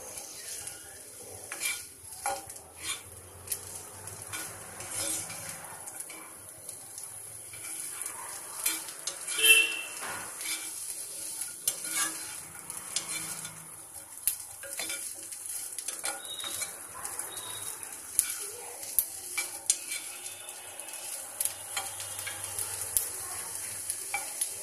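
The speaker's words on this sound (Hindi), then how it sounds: "इसको भून लीजिए।" Capsicum and other vegetables sauté in a pan with a continuous low sizzle, while a spatula scrapes and clinks against the pan frequently and irregularly.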